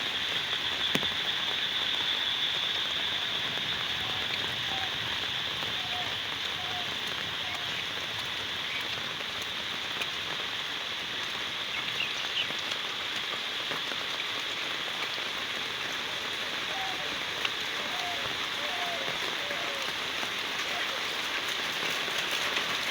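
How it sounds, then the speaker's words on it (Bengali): Heavy morning downpour in a village near the Padma, with a steady, dense hiss of rain on surfaces throughout and a few faint bird calls scattered in the background. "সকালবেলা বৃষ্টির মধ্যে"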